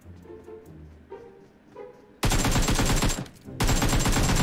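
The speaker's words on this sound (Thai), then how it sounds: "ยิงกันแล้ววะ" Automatic gunfire in the mobile game PUBG Mobile erupts in two loud, dense sustained bursts after quieter distant shots and game ambience.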